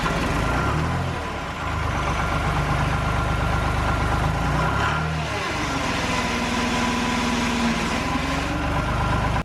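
A farm engine cranked up and idling steadily, a close, continuous low rumble with slight changes in load partway through.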